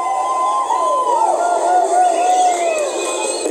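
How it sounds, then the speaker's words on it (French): A crowd cheers and whoops at a reining horse show at the Equita Lyon horse fair, with country music weaving through the noise. The cheering is sustained and fairly loud throughout, with no break. "Musique country, cris, applaudissements à tout rompre."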